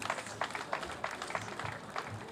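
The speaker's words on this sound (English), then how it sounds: "I think they all deserve a round of applause." Audience applause at a housing estate commissioning ceremony, a brief patter of scattered clapping, moderately distant and fairly light.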